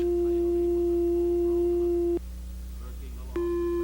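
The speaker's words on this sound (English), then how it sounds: "This is a sine wave." An electronic oscillator puts out a pure, steady sine tone that cuts off abruptly, leaves a short quiet gap, then returns at the same pitch with a faint extra layer.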